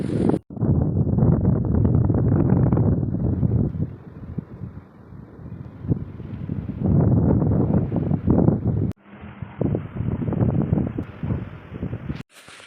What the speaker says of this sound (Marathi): एवढं वारं सुटलं होतं तुम्ही बघा आवाज येत असेल